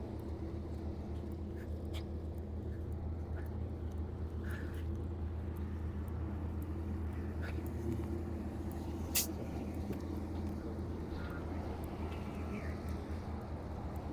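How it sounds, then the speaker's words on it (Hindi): Slow queue of cars and buses crawling up a steep hill road in mountainous country, a steady low rumble of idling and creeping engines, fairly quiet and continuous, with a brief sharp sound near the end. "ट्रैफिक की रवानी बहुत बहुत बहुत ज़्यादा यहाँ पर स्लो है"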